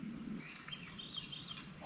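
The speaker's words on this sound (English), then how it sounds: "Just want to take a moment to appreciate all the birds just singing for us right now." Wild birds chirp and warble outdoors at a remote camp by a trout river, several faint high calls overlapping at a distance over a soft steady background wash.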